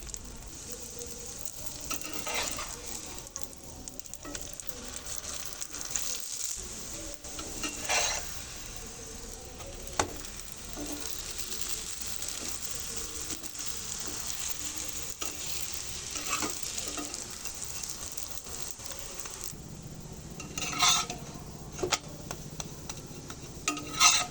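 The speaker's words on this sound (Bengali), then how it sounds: "চুলার উপরে আমি একটা ফ্রাই প্যান বসিয়ে দিয়েছি এবারে পরোটাটা দিয়ে দেব এবার আমি তেলটা দিয়ে দেব" Lachha paratha frying in oil in a frying pan on a stove gives a steady, close sizzle and crackle throughout, with occasional soft scrapes and clinks of a utensil and no talking.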